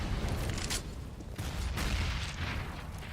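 A grenade blast in a Counter-Strike match on top of burning fire, heard as muffled booms and gunfire bursts in a busy, steady wash of game noise at low volume.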